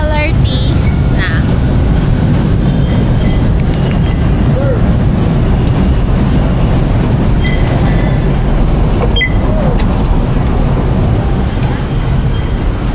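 Steady, loud rumble of an LRT light rail train ride in Manila, a continuous low drone with faint squeals and clatter throughout, people chatting quietly in the background.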